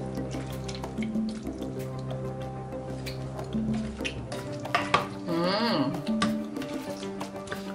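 Water poured into a pan of tofu and green beans in tomato, splashing and sizzling softly under steady background tones, with a brief louder gush midway, close by.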